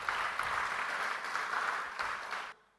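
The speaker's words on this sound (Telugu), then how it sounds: "చప్పట్లు కొట్టి దేవుని స్తుతించు" A church congregation clapping in praise of God, dense steady applause from many hands in a large space that carries on evenly and then cuts off near the end.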